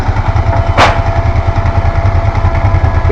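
A motorcycle engine runs nearby at a steady, throbbing idle beside arc welding work, its low pulsing continuous throughout, broken once by a brief sharp crackle.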